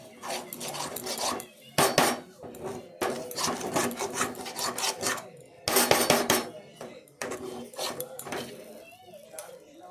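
A utensil scrapes and rasps against a cooking pan while fried coriander and cumin spice is stirred, coming in close, repeated bursts of metallic scraping separated by short pauses.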